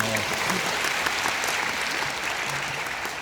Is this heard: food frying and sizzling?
no